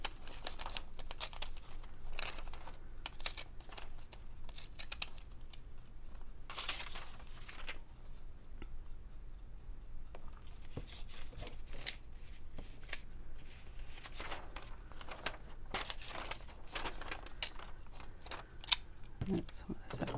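Scissors cut scrapbook paper around printed flowers, a long run of quiet, rapid snips and paper rustles, close and soft, with occasional brief pauses.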